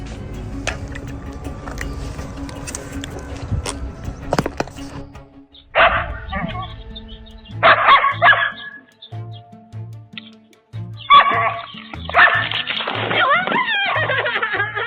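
A dog barks excitedly in a few bursts among clattering noise, overlapping voices and laughter.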